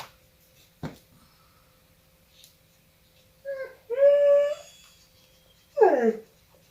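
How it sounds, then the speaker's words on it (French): Puppy whimpering as it wakes, a few high wavering whines in short bursts, the loudest near the end, with a brief tap earlier and no talk. "Bébé chien se réveille."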